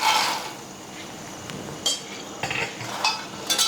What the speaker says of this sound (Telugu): ఇప్పుడు అదే నెయ్యిలోకి మళ్ళీ మనం ఈ మకానా వేసి వేయించుకోవచ్చు అండి